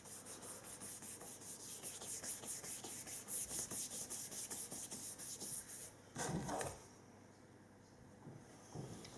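Cake sides being rubbed down by hand to mark a cutting edge, a steady rhythmic scraping and rubbing close by, with a louder brushing burst near the end and no talking.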